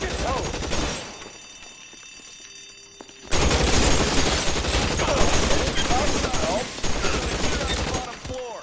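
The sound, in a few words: shotgun gunfire in video game L.A. Noire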